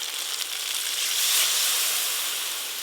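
Water poured onto well-fried spice masala in a hot pan erupts into a loud, continuous hissing sizzle that swells and then eases slightly, close and with no voices.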